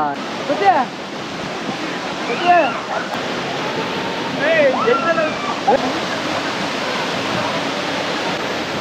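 Soormane waterfall gives off a steady, loud rushing roar of falling water at close range, while several people talk over it.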